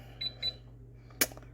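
Air fryer control panel being set to bake, giving two quick electronic beeps followed by a sharper single tone, close and faint in a quiet kitchen.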